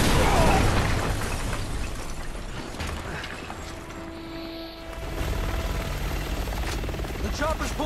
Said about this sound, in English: The chopper's pulling back.